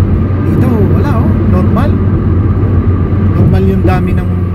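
Steady street traffic rumbles past in San Antonio on Good Friday, a continuous low roar of cars and heavier vehicles close by, under ongoing talk.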